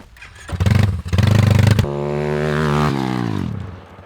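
A Buscadero BSX140 pit bike on a timed run roars close by through two quick revving pulls, then shifts into a long rising whine as it accelerates away and fades, with no voices.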